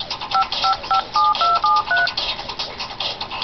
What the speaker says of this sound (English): Pay attention to the number I dialed.